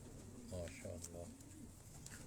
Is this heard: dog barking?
no